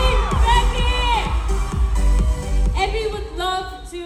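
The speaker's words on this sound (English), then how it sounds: "Let's give a warm applause to FreenBecky!" A lively audience at a fan event cheers and shouts, welcoming FreenBecky, with whoops rising over a steady roar of applause, loud and close, with excited voices mixed throughout.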